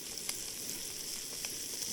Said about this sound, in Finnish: Paistan vähän tässä pekonia kanssa leipää kaveriksi.